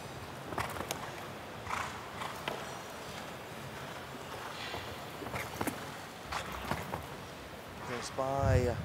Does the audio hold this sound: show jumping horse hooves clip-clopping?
yes